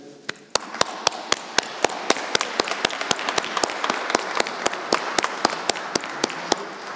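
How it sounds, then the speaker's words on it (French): A steady, dense wash of applause from a church congregation at Sunday Mass, with loud, regular sharp claps standing out near the front, rhythmic and sustained. "applaudissons nos femmes et nos mères,"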